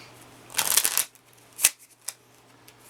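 Tarot cards shuffled by hand for a reading: a half-second burst of riffling flutter, then a few short separate card snaps and slaps, close and fairly quiet.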